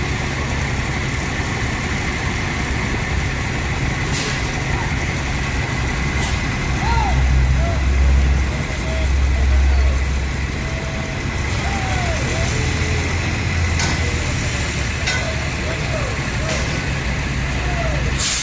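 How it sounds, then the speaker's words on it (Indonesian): Rosalia Indah intercity buses pull out of a bus pool in Indonesia, with deep diesel engines rumbling and idling steadily at close range. Sharp hisses of air brakes sound several times, and a high whining tone comes and goes over the continuous engine noise. "Dengan 2 bus berangkat lebih terurai lagi"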